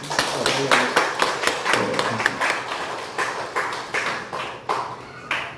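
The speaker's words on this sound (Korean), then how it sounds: "박수 한번 하시죠" A church congregation claps together, a steady patter of hand claps with sharp bursts, mixed with some voices in a large room.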